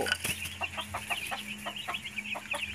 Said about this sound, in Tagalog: Ang mga sisiw, ayan, magpalaki kayo ng maayos.